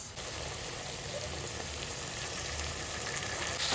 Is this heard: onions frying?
yes